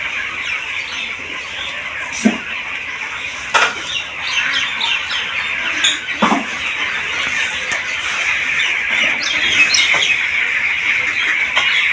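Broiler chickens on a litter-floored poultry farm, a dense crowd of close chirps and peeping with occasional louder squawks, continuous throughout with no talk.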